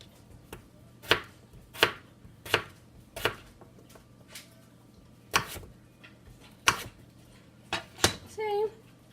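Potatoes are chopped into big chunks for a hearty stew, about a dozen sharp knife strikes on a cutting board at an irregular pace, close, with quiet background.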